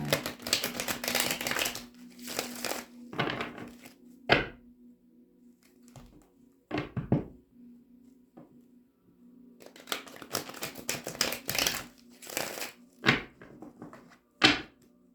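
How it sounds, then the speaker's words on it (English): Rider-Waite tarot cards are shuffled in quick riffling bursts, separated by pauses and soft clicks, close and fairly quiet over a faint steady hum. "Get you some good shuffles in, and we will begin"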